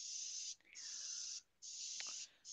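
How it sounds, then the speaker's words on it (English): Red spray paint hissing from a can onto a piece of wood, three close, sharp bursts with short gaps between them, and a faint knock near the end. "And we're going to spray this"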